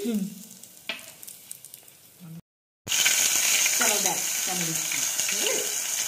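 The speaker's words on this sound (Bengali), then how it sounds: "দেখেছো কত চটপট চটপট চটপট করছে" Spices crackle and sizzle loudly in hot oil for white aloo dum. A quieter stretch with a voice is followed by a brief silence, then a dense, bright frying hiss that runs to the end.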